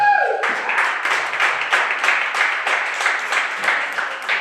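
Audience applause at a stand-up comedy night: a dense, steady wash of many hands clapping that starts after a brief opening tone and holds evenly loud to the end, with no voices over it.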